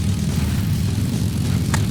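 A helicopter in the racing video game Fuel drones steadily with a loud, continuous engine and rotor rumble, no breaks and no voices over it.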